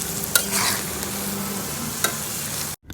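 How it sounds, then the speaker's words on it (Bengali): Sliced bitter gourd fries in hot oil with a loud, dense, continuous sizzle, close up, with a couple of brief stirring knocks before the sound cuts off abruptly near the end. "এরপর করলাগুলো অবশ্যই উল্টাপাল্টা করে ভালো করে ভেজে নিতে হবে।"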